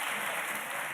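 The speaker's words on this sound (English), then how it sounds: "You clap again and you'll be evacuated from that gallery." Visiting school children clap together in the public gallery of a parliament chamber, a dense continuous burst of applause lasting about a second, fairly loud and without talk.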